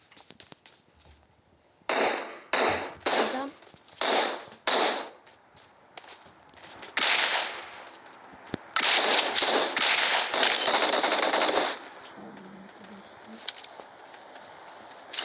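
Automatic weapon fire in a video game rattles out in several sharp bursts, then a longer sustained volley, with a voice talking between shots.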